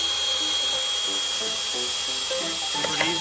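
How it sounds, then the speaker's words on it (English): A power drill bores through wood boards into steel behind them in an old workshop, giving a continuous high whine that shifts pitch in short steps as it loads up, close and steady throughout. "It's almost like I drill through the wood and then there's metal right behind it."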